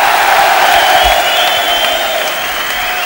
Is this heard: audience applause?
yes